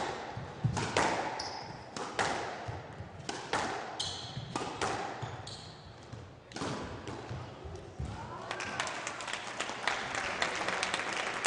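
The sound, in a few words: crowd applauding at a squash match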